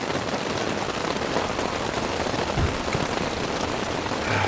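Steady heavy rain patters on a tent fly at a campsite during a rainstorm, a dense continuous hiss heard close from inside the tent, with no voices.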